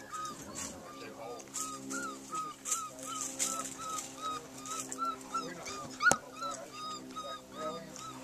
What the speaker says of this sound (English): I gotta get this puppy to stop crying here.